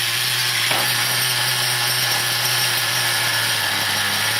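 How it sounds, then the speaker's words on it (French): Small T2M Clio RC nitro model car engine running at close range with a steady high buzzing whine, a brief throttle blip near the start, loud and continuous. "Donc, petit coup de gaz."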